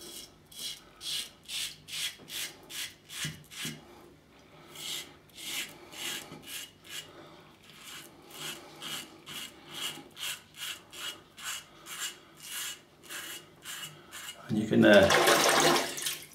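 A Parker 76R safety razor fitted with a Treet Platinum blade scrapes across lathered stubble in a steady series of short, crisp rasping strokes, close and clear, ending with a burst of running water from a rinse.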